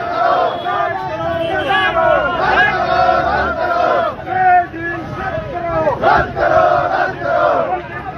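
A large crowd of farmers marching on foot toward Delhi, many voices chanting slogans together in loud, rhythmic waves that rise and fall steadily throughout.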